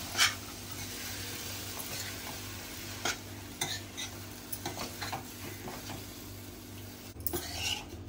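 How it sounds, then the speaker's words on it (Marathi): Field beans (vaal) stirred into a pan of frying vegetables for a brinjal and potato bhaji, a low sizzle under intermittent scraping and clinking of a spoon against the pan, close and quiet. "तो वाल घालते, मिक्स करायचं आहे"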